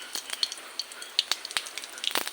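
Cumin seeds dropped into hot white cooking oil crackle and sizzle with scattered sharp pops over a soft hiss, fairly close and fairly quiet, with no talking.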